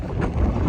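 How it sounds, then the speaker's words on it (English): Strong wind buffets the microphone at an outdoor theme park, a dense continuous low rumble filling the whole brief moment with no speech. "It's way too windy"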